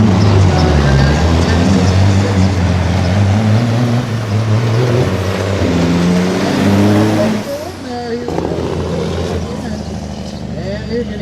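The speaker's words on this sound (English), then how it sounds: "you can hear the Jake brake as he slows down to come back around" An International 1066 pulling tractor roars at full power down a drag track, then the engine note drops abruptly and a jake brake chatters in descending tones as it slows. Loud and close, with a commentator talking.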